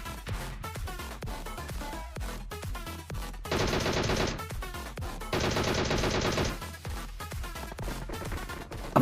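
Gunfire from an S12 shotgun and DP machine gun during a battle-royale gunfight, with dense rapid bursts and two sustained loud automatic volleys over constant game sounds.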